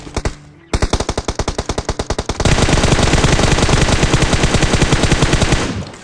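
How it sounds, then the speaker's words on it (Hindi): Rapid MK rifle spray in PUBG Mobile, a loud sustained burst of evenly spaced shots after a brief pause, then an even denser continuous volley of automatic fire. "बस देखो यहाँ पे MK का स्प्रे।"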